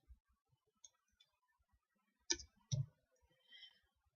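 Sparse, soft computer keyboard taps and mouse clicks sound in a quiet room, with two sharper clicks standing out near the middle.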